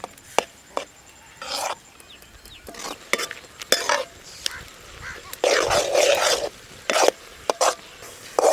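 Grated carrot for sugar-free halwa is stirred and sautéed in a pan, with bursts of close scraping and soft sizzle in an irregular rhythm, some strokes short and sharp, others longer.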